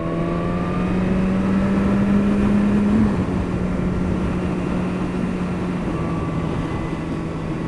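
A 2017 BMW S1000RR motorcycle accelerates hard on a road, its engine note climbing to a high whine, breaking off at a gear change, then settling into a loud, even drone.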